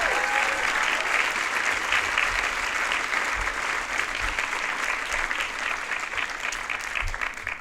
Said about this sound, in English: A round of applause for the friends and family.